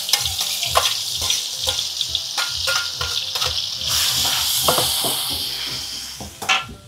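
Ground bumbu spice paste for Padang sauce frying in a hot pan, with a dense, steady sizzle and crackle throughout, punctuated by sharp clicks and scrapes of stirring, with no talking.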